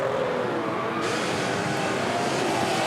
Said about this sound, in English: A lot of wheel spin there for Anton.